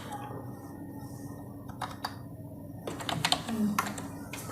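A student's password is typed on a computer keyboard, a run of close, crisp key clicks, sparse at first and then quicker, over a quiet room with no speech.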